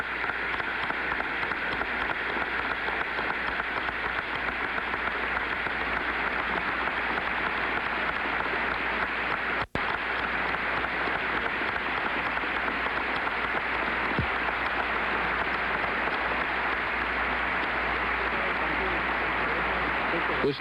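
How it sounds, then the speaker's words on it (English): Steady, sustained applause from a large audience at a joint session of Congress fills the chamber, a dense patter of clapping that continues without a break. "And the applause goes on."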